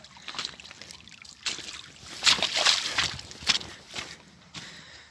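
Water sloshing and splashing as someone wades across a small stream, with uneven bursts of splashes and footsteps through shallow water, close by.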